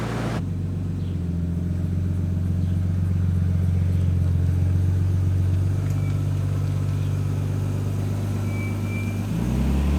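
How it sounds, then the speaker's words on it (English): A car with a newly installed fuel pump drives on a test ride, its engine a steady low rumble with a faint clatter that holds close and even for about nine seconds before a brief shift at the end. "Car already sounds a lot happier on the pump, even just driving around normally"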